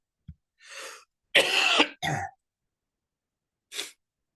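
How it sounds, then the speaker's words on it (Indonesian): A person coughs several times in short bursts separated by pauses, close and fairly loud, with a faint breath before the first cough. "saya batuk terus"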